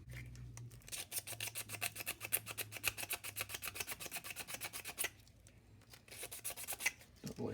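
A small skinny chisel scraping support material off a 3D printed part, a quick run of rhythmic rasping strokes close and faint, a brief pause, then more scraping.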